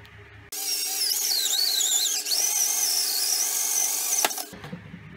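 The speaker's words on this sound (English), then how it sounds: "I'll show you guys the holes that I'm drilling here soon." A power drill whines loudly for several seconds as it bores into material, its pitch wavering under load before stopping abruptly.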